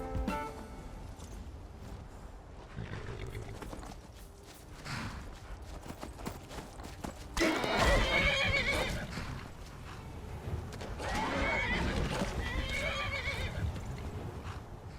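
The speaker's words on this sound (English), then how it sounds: "These horses are tough too" A horse in the video game Skyrim lets out loud whinnying neighs in two bursts amid a soft rhythm of clopping hooves, heard close and without talking.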